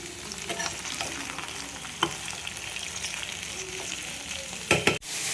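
Pumpkin pieces fry in a pan with a continuous close sizzle, broken by scattered stirring scrapes and a cluster of sharp utensil clanks near the end.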